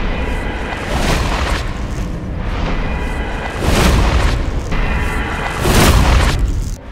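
Dark Hand weapon art being performed in Dark Souls, heard as a run of heavy booming, rumbling bursts with three stronger surges spread over several seconds, loud and without speech.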